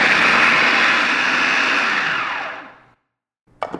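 A food processor runs loudly and steadily while blending grated soap with borax and washing soda, winds down to silence near the end, then gives a brief clatter.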